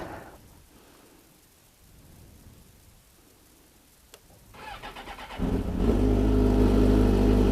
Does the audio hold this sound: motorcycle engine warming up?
yes